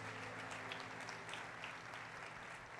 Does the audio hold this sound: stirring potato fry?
no